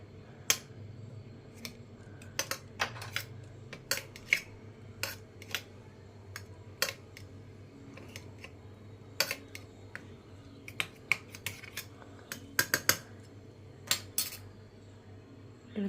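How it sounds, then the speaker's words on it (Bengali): Spoon or fingers mix fish with raw mustard oil and spices in a bowl, giving scattered sharp clinks and taps against the dish, close and quiet, with no talk. "তো এগুলোকে সব উপকরণগুলোকে একসাথে মিশিয়ে দেবো, যাতে সব কিছু মশলা মাছের ভিতরে ঢোকে"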